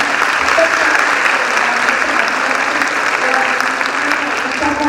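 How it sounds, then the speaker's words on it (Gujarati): Sustained applause from an audience at a Gujarati-medium kindergarten school annual function, a dense steady wash of many hands clapping throughout, with voices faintly mixed in. "આ સતત માર્ગદર્શન કિરણબેન માટે જોરદાર તાળી આપી જાઓ"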